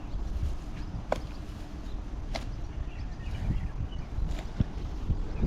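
Wind gusts across an open fishing boat at sea, a steady rushing roar with buffeting on the microphone and a few faint clicks and knocks from the boat.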